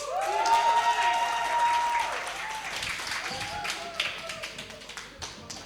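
A youth church service audience applauds loudly, a dense burst of clapping that tapers off, while a voice speaks over it.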